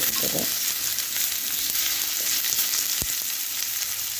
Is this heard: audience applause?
no